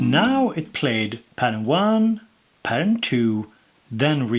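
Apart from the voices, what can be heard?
No distinct noise like a dog, phone or traffic.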